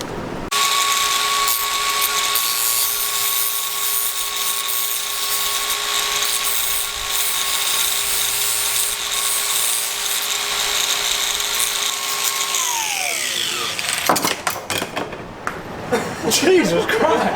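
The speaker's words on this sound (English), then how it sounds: "I'm just gonna take a grinder and hit on these" A handheld angle grinder whines steadily on car parts, holding a loud high-pitched tone for about twelve seconds before spinning down. Scattered clatter and bangs follow as the wheel stops.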